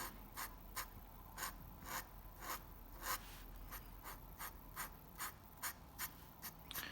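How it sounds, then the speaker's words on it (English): Quick, repeated scratchy strokes of a pen moving across paper, close and steady with brief pauses between bursts, no voices. "And of course there's the soothing sound of a pen on paper"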